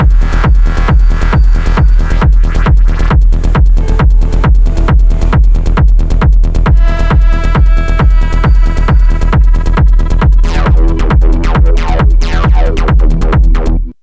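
A techno track made on an MPC plays loud and close: a pounding four-on-the-floor kick with steady percussion and layered synth and chime elements, running continuously before cutting off abruptly at the end.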